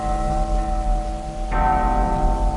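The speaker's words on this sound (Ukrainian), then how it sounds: "І вдарили дзвони." Church bells ring out as a signal for an uprising, entering strongly partway through with sustained, resonant tones over a steady low drone, fairly loud and with no talking.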